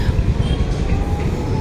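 A train rolls in close to a railway station with a loud, steady rumbling and clatter of wagons, a faint squeal running through the noise.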